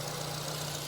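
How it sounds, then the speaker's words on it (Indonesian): A steady, low engine idle from a 2010 Nissan Grand Livina 1.5 XV hums evenly throughout, smooth and continuous with no voices. "Dan ini suara mesinnya halus ya"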